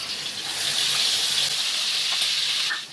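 Spices such as cumin and coriander tempering in hot oil make a continuous bright hiss and sizzle, fairly loud and close, easing off slightly at the end.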